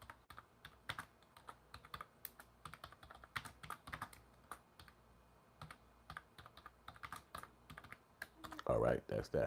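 Rapid keystrokes on a computer keyboard clatter in uneven bursts up close, ending in a louder, denser flurry of clicks.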